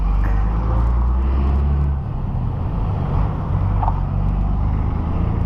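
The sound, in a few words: road traffic noise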